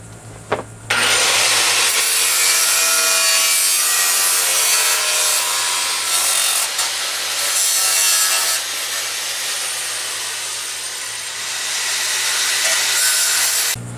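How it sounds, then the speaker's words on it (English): A large grinder bites into the fiberglass edge of a lawn mower part, a loud, steady abrasive whine with grating texture, running continuously up close with slight dips in intensity. "And I'm going to do that with my big grinder."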